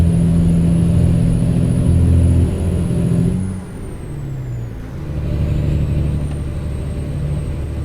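A heavy truck engine in American Truck Simulator rumbles loud and close, then eases into a lower, shifting drone as the engine brake engages. No voices can be heard.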